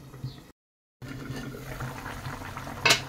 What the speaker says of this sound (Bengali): দিয়ে 5 মিনিট ঢাকা দিয়ে মিডিয়াম আঁচে ফুটতে দেবো